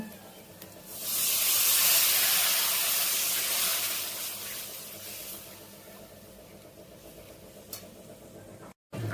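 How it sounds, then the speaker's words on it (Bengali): Water poured into hot masala in a pan for egg omelette curry sets off a loud sizzling hiss that bursts up, holds for a few seconds, then slowly fades into a gentle simmer. "এবার আমি জল দিয়ে দেবো"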